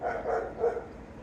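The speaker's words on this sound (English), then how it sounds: "Dogs are starting to bark." Dogs barking somewhere around an outdoor garden with sunflowers and strawberries, a few muffled, fairly distant barks in quick succession with no talk over them.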